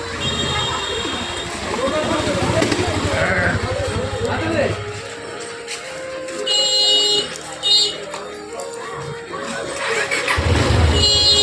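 A motorbike engine rumbles low and near while the bike is turned around, fading midway and then returning. Voices talk over it, and other background noise mixes in.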